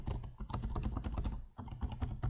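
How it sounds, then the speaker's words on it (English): Typing on the keyboard of a Lenovo Legion Slim 5 14-inch OLED Gen 8 gaming laptop, a steady run of close, crisp key clicks with a brief pause partway through and no talking. "they're tactile, have good travel, and just feel great to type on"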